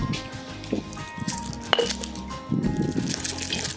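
Liquid pours into a glass with a gurgling fizz, a light clink of glassware partway through, and low voices murmuring nearby.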